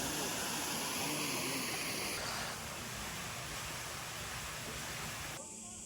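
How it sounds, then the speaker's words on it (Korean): A mountain valley stream flows with a continuous rushing, splashing wash of water, fairly close and steady, on a summer day trip near Chuncheon, with voices talking over it. "계곡."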